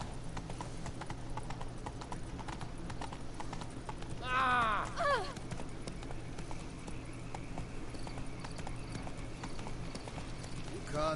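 Rhythmic clip-clop of Geralt's horse Roach galloping in The Witcher 3, steady hoof beats running throughout over a game soundscape, with a brief whinny partway through.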